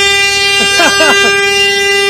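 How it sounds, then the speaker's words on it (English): A short horn toot from the number 69 race car at Thruxton circuit, a few rising and falling blasts over a steady tone, heard fairly close, with voices mixed in. "Dave Jenkins with a toot from the horn in the 69"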